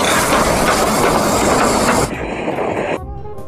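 A toy tomato train gives off a loud, close mechanical hiss and rattle that drops in level twice before fading to near quiet.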